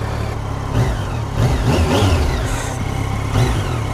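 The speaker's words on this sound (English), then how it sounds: "Man, that throttle response is snappy." A new motorcycle's engine revs hard on the throttle in several quick, snappy bursts over a steady running drone, loud and close, with no talk.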